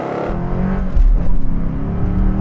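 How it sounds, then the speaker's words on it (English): Three Ford Mustang Bullitt cars launch together in a drag race, a loud close engine roar that swells and rises steadily as they accelerate, with no voices over it. "have all 3 Bullitt Mustangs running in a drag race against each other"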